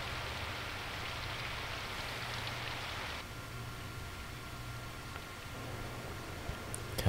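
Steady rain falls in the visual novel game Symphonic Rain, a soft, continuous hiss of moderate loudness that thins a little partway through and runs alone with no voices.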